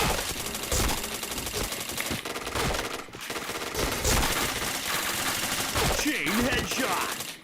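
Dense, rapid gunfire from the PointBlank shooter game, with overlapping bursts and single shots crowding the whole stretch at close, loud level and no pauses.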